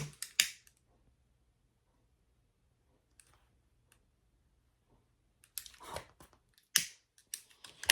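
Scissors make a few quick, crisp snips close by while trimming a fabric seam allowance on a zipper pouch, with short clicking cuts separated by quiet pauses.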